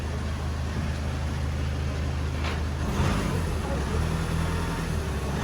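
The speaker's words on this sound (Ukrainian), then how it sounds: "Прогрівом почав тарабанити вже двомасовий." A 2012 VW Touran 2.0 diesel engine runs steadily with a warm-up rattle from a worn dual-mass flywheel, a dense, constant mechanical drone heard up close.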